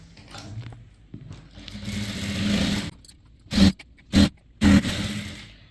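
A sewing machine stitches a blouse sleeve hem folded in a quarter inch, running in a longer whirring stretch and then three short, sharp motor bursts close by.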